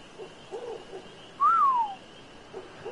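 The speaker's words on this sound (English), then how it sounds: "I whistled." A single short whistle from a character in the video game Ark, rising then gliding down, clear and close over low ambient game noise.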